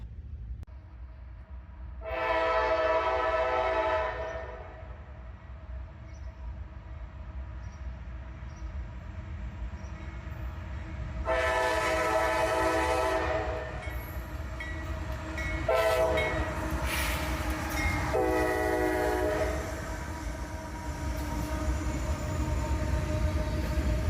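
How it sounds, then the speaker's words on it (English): A freight train hauled by three locomotives rumbles past steadily with several loud horn blasts sounding at intervals over the continuous rolling noise. "Check that out. 3 locomotives on this one."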